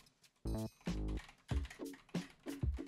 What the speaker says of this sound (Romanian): Mamă, cum trebuie să rupi tastatura asta.